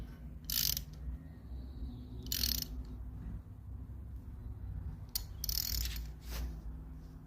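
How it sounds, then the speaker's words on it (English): Rusty bolt threads on a 1967 Chevy Impala convertible being chased with a thread-cleaning tool: a few harsh, ratcheting metal scrapes in separate bursts over a low steady hum, fairly close, with no talking. "So we're chasing all of the threads."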